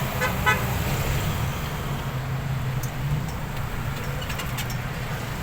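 Steady roadway traffic on a city street around eight in the evening, with a sustained car horn toot sounding over the continuous hum of passing vehicles.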